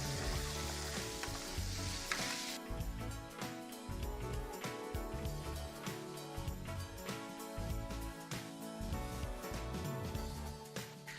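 Lamb sausage sears in a paella pan with a steady, loud sizzle throughout, broken by occasional scraping and clinking of a utensil against the pan; no one speaks.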